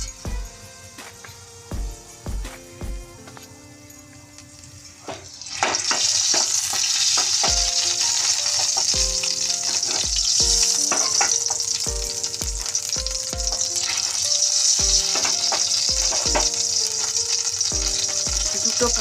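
Mustard seeds sizzle and pop in hot white oil for a dhokla tempering, first as scattered sharp crackles over quiet, then a steady loud hiss of frying from about five seconds on with repeated popping throughout.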